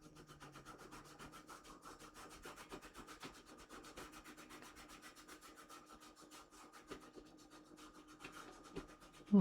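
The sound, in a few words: rubbing and polishing scratches on amplifier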